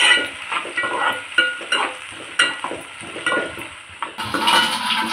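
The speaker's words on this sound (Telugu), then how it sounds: "వీటిని ఆనియన్స్ని బ్రౌన్ కలర్ వచ్చేదాకా ఫ్రై చేసుకోవాలి" Onions fry in hot oil in a pan for Hyderabadi chicken biryani, with a steady close sizzle under repeated spoon scrapes and clinks against the pan, ending in a louder burst of frying.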